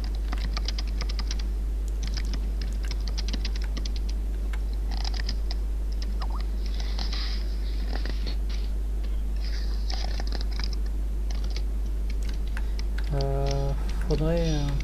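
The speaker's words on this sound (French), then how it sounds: "j'entends les bruits de ton clavier, de ta chaise, j'entends tout" Rapid clicking of a computer keyboard picked up through a game player's microphone, steady bursts of keystrokes running throughout under a constant low hum, with a voice talking over it and a brief tonal chirp near the end.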